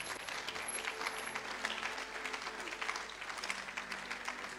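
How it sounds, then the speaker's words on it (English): Congregation applause at a church service, a steady wash of many hands clapping that fills the whole clip at moderate, even loudness, with no talk over it. "Come on, give Jesus a mighty clap of him."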